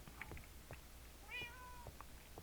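A cat in Minecraft Dawncraft EX gives a single drawn-out meow, quiet and distant, set among soft in-game clicks and footsteps.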